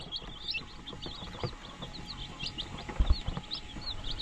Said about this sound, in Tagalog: umiinom na yung mga sisiw natin